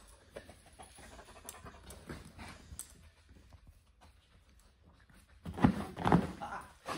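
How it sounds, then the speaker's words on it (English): A dog pants in rapid, breathy bursts during a high-low scent search skills challenge. The panting runs steadily, then grows louder and closer near the end. "This is my dog, Firro"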